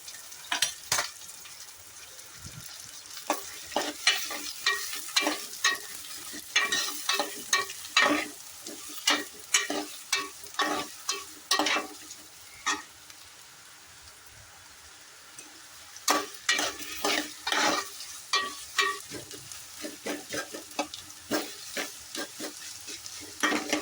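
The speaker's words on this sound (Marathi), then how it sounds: "हा जो उभा कांदा बारीक चिरला होता तो यात घालून घेऊया आणि व्यवस्थित परतून घेऊया" Sliced onions stir-fry in hot oil in a pot for chicken dum biryani, a steady sizzle broken by repeated sharp scraping strokes of a spatula in irregular bursts, close and clear with no talk.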